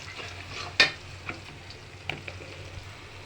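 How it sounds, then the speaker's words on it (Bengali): Onions, whole garam masala and bay leaves frying in oil, a soft steady sizzle with a sharp clink of a spoon against the pot and a few lighter taps. "ভাজা হয়ে আসছে"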